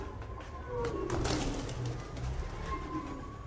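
Purebred pigeons in a loft give soft, low cooing calls close by, gentle rolling coos over a faint background hum with no talking.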